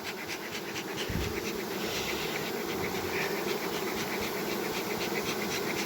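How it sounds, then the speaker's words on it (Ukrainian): A honeybee swarm of about three kilograms being settled into a hive, a dense continuous buzzing drone up close that fills the whole stretch, no talking. "Заселяємо бджіл."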